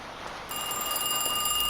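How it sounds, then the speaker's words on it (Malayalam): A telephone in a fast food restaurant video game starts ringing after a short pause, a steady, bright electronic ring that continues loudly without any voices. "എന്തോ ഫോൺ റിങ് ചെയ്യും"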